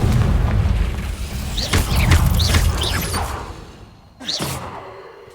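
In Hogwarts Legacy, a Confringo blasting spell goes off with loud, deep booming explosions and whooshing bursts that fade out, then a final sharp blast.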